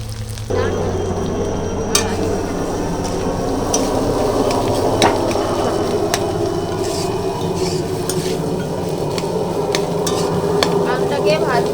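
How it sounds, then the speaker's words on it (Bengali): Cumin, coriander, ginger and green chili frying in hot oil, a loud steady sizzle with repeated spoon scrapes and clinks against the pan running throughout. "মশলা রয়েছে জিরে ধনে আদা কাঁচা লঙ্কা ভাজতে"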